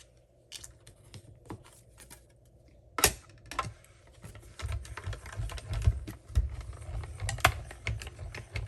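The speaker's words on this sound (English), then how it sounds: "We're gonna get our mini Stampin' Cut and Emboss machine and die cut our sentiment." A mini Stampin' Cut and Emboss machine cranking a die-cut sentiment through its rollers, close dry clicks and a sharp knock, then a rougher grinding, rumbling run of pressure over the last few seconds.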